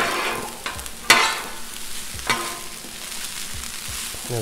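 Shrimp fried rice sizzles steadily on a Blackstone griddle while a spatula scrapes and turns it, with a few sharp metallic clacks against the flat-top amid the continuous frying hiss.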